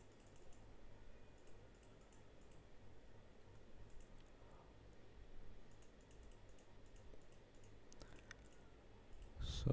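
Soft, quiet computer mouse clicks in a faint, steady run against low background hiss, with no voice.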